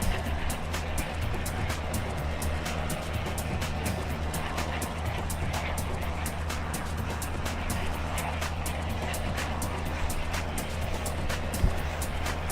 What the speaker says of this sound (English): Listening to the engine like I'm hypnotized by it.